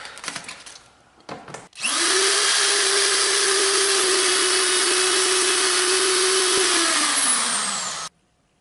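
A power grinder works steadily on the front axle reinforcement of a mud mower, a loud sustained whine lasting about six seconds after a few short bursts, then winding down, with no talking.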